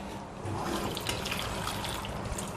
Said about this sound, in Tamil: கொஞ்சம் தண்ணி ஊற்றி வேக வச்சிடலாம்.